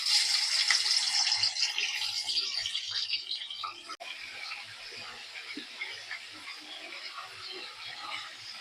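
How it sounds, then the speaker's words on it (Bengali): Chicken pieces fry in hot white oil in a wok, giving a loud broadband sizzle at first that settles into a softer, steady crackling hiss. "এখন আমি চিকেনটা ভেজে নেব।"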